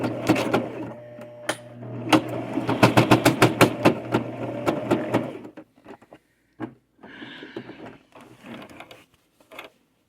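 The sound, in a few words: sewing machine sewing a fabric pouch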